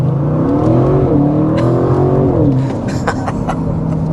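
The V8 engine of a 2025 Audi RS6 Avant revs loudly and close, a deep rumbling tone rising then falling back, with some rattling and clicks near the end and no talking.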